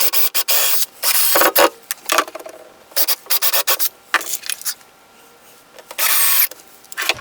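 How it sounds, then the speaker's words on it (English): Tapered drill bit boring pilot holes into wood for a flip-top tool stand, a series of short, raspy, close-up grinding bursts separated by brief pauses. "Then I will use my tapered drill bit"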